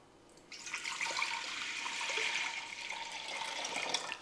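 Running tap water for a red wine vinegar onion salad, a steady close hiss of flowing water starting after a brief quiet moment and continuing without a break to the end.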